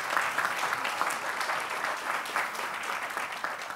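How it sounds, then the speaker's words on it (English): Warm-up applause from the audience at a round-table session on digital skills for schools, a steady, dense clapping from a mid-sized crowd that continues without a break for nearly four seconds. "I would like to ask for a warming up applause for these kind speakers."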